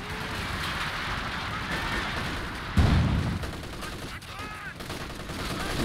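Scattered distant gunfire and a heavier boom in a 4v4 World War II shooter match on the La Gleize map, a steady battle bed with talk over it.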